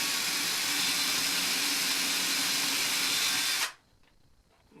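A Harbor Freight wheel motor rigged for a robot spins in high gear with a steady, loud, high-pitched electric whine that cuts off abruptly after about three and a half seconds, leaving a quiet hum.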